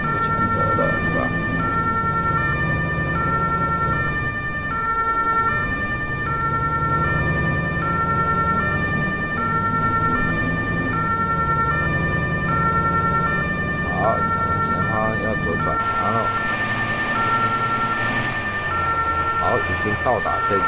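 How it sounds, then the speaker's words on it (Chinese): Toy fire truck sirens wail continuously and loudly, several overlapping electronic tones cycling in steady repeating patterns for the whole stretch. "这么多消防车拉着警报"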